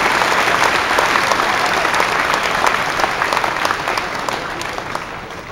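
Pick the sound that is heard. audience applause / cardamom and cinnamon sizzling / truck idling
audience applause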